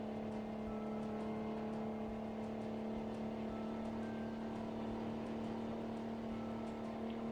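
A V6 bus engine in Euro Truck Simulator 2 drones with a steady, even hum, holding constant without spikes or talk.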